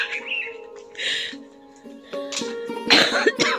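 A person coughs outdoors on a cold, foggy morning, with several sharp, close coughs in short bursts. Birds chirp faintly in the background between the coughs.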